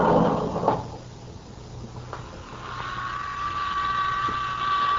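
A radio-drama elevator door slides shut with a soft rumble and a thud, then the car's low hum continues steadily for several seconds.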